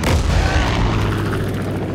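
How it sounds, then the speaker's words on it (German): A bomb explodes in Far Cry 5 with a loud, deep boom that swells into a long rumbling roar and rolling low-end reverberation, filling the whole stretch without any voices. "Bombe!"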